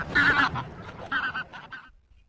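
A human voice imitates a duck, giving two nasal, honking quacks up close during a children's story about an ugly duckling, each quack short and bright, then fading to quiet.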